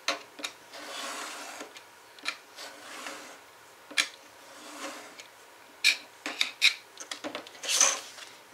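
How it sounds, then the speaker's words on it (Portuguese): A craft knife drawn along a ruler through card, giving scattered dry scraping strokes and small ticks with quiet gaps, close and fairly soft. "Aí eu venho novamente com o meu estilete, sem fazer muita pressão com a mão do estilete e sim com a mão que tá segurando a régua"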